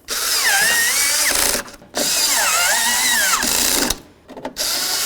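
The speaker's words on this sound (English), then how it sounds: "So now let's just go ahead and start in these bolts for the latch." A power drill drives in and tightens the bolts on a door latch assembly on a 1988-2002 GMC Sierra 1500 pickup. Two long, loud whirring bursts rise and fall in pitch, with a short pause between them and a brief buzz at the end.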